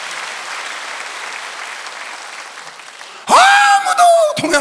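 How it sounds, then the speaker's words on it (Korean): Church congregation applause during a Wednesday worship service, a loud, dense wash of clapping that runs steadily for about three seconds, then cuts abruptly to a sharp, close tonal noise. "박수 하세요."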